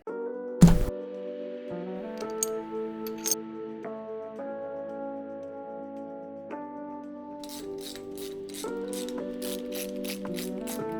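Ratcheting wrench clicks in short bursts while bolts are run down on a Mazda 13B rotary engine stack during assembly, with a sharp metallic knock near the start and quick pawl chatter toward the end.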